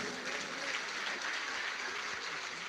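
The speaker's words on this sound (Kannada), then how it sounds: "ಒಮ್ಮೆ ಮೇಲೆ ಕೈ ಎತ್ತಿ ಜೋರ ಚಪ್ಪಾಳೆ ತಟ್ರಿ" A crowd at a devotional gathering applauds steadily, with dense clapping that stays fairly even throughout and sounds somewhat distant.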